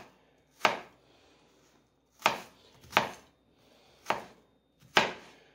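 A knife chops an onion on a board while beef and bacon patties are being prepared, giving five sharp, close chopping strikes at uneven intervals with quiet gaps between them and no talking.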